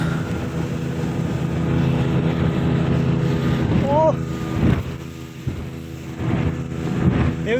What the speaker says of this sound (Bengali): সাগরে পানির শব্দ।